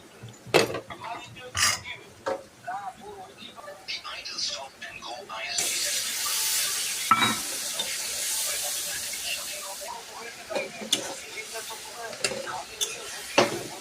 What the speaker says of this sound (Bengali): ডিম ডান ভাজা করে নিচ্ছি